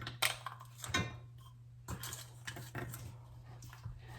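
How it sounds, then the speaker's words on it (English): Saskatoon berries drop into a medium saucepan with a scatter of small, close taps and clinks against the metal, bunched in short bursts over a low steady hum. "Now in a medium saucepan, we're gonna add about half of our Saskatoon berries."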